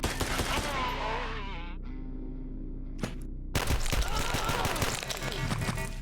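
Gunshots in the game Quasimorph come as bursts of rapid, distorted fire over a droning game soundtrack. There is a pause, then a sharper, denser volley of shots near the end.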